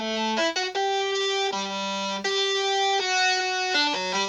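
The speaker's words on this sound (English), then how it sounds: "Then I doubled the bass sound with a synthesizer, distorted and all up in your ears to sound like this." A distorted synthesizer bass doubles an 808 bass line, playing a gritty, buzzy sequence of sustained and shifting low notes that stays loud, close and alone.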